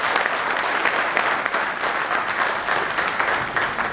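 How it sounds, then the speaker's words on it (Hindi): An audience at a CEO's motivational address bursts into steady, dense applause, many hands clapping together at a fairly loud level for the whole span. "तो मैं चाहता हूं कि एक बार सभी उनके लिए जोरदार तालियों से स्वागत करें।"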